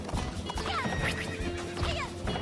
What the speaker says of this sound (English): this horse doesn't have a name